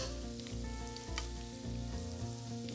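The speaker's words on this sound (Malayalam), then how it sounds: "ആ ഒരു ക്രഞ്ചിനെസ് കിട്ടാൻ വേണ്ടിയാണ് നമ്മളൊരു മീഡിയം ഫ്ലെയിമിൽ ഇട്ടിട്ട് വറുക്കുന്നത്" Chicken snacks fry in oil over a medium flame, a steady close sizzle with soft stirring sounds and no talk.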